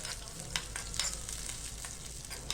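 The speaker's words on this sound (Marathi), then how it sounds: "थोडंसं आपण आता हे असं परतवून घेणार आहे जिरं आणि मिरची." Cumin seeds and green chilies fry in oil while being stirred, a close, lively crackle with intermittent scraping taps of the spoon across the pan.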